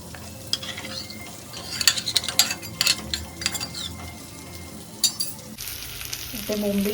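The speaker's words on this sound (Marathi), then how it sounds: "इथे बोंबील मस्त फ्राय होत आहे." Bombil (Bombay duck fish) frying in a pan, a steady close crackling sizzle with repeated scraping and stirring strokes of a spatula, ending in a brighter hiss.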